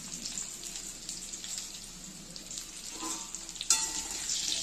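Young jackfruit pieces frying in oil with salt and turmeric, a quiet, steady crackling sizzle with a brief sharper spatter near the end, no voices.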